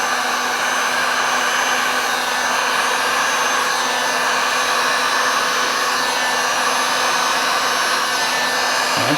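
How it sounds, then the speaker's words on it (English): Steady, loud blowing roar of a heat gun running continuously over resin art, a constant broadband hiss with a faint motor whine, no voices. "let's grab the heat gun so we don't get it"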